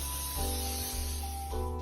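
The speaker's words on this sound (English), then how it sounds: "Grab your griddle and let's give it a spray." Short hissing bursts of an aerosol cooking spray onto a griddle, close up, with a brief pause between sprays.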